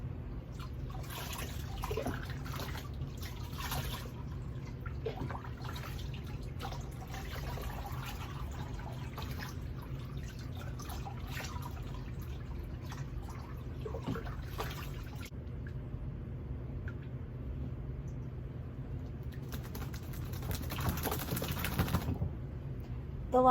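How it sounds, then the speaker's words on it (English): Water running and trickling in a tub as shampoo is rinsed off a Bichon Frise dog, soft intermittent splashing and dribbling that rises and falls, fairly quiet and close. "Now I'm going to rinse again."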